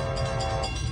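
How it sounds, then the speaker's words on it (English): A five-car Amtrak Capital Corridor train, led by an SC44 locomotive, passes the 105th Avenue grade crossing in Oakland as a brief, steady rumble of rolling cars, fairly faint and without voices. "Here comes Amtrak 527 Capital Corridor train on its way to San Jose Diridon Station."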